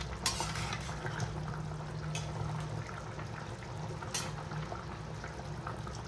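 Chicken curry gravy simmers in a pot to reduce, giving a low, steady bubbling close by, with a few faint clinks and no talk.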